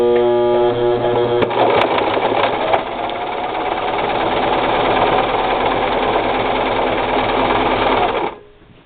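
A Brother LX3014 sewing machine runs a shell tuck stitch along a fabric edge, its needle motor whirring in a fast, even mechanical rhythm for several seconds before stopping abruptly.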